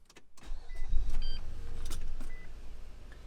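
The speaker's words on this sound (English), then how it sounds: "this got the engine started, programmer beeped" A keyless Infiniti car engine starts with a brief crank and settles into a steady idle, while short electronic beeps from a key programmer sound faintly in the cabin.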